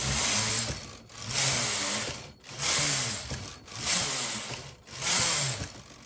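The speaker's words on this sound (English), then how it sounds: "I brought the alternate needles in and I'm going to carry on knitting" A Brother knitting machine carriage with a KHC-820A single-bed colour changer slides back and forth, five loud mechanical whooshing passes with ratcheting clatter and short pauses between, close and alone.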